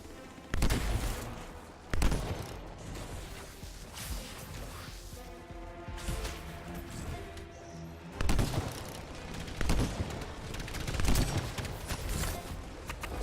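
Pistol shots in Anthem, spaced sharp bursts of fire at a moderate level, with a few louder hits over continuous game ambience and effects.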